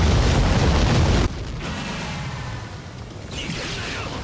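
A soul bomb special attack in Bleach Brave Souls detonates as a loud, close blast, then fades into a rumbling, whooshing tail of game effects.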